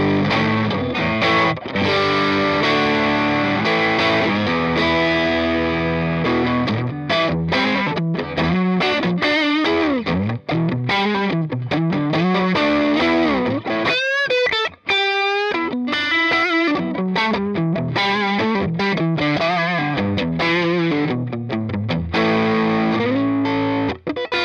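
Electric guitar played on the neck pickup, with Alnico pickups, through a Fender Blues Jr amp, ringing out loud, sustained chords and single-note lines with a slightly driven, warm tone and no talking.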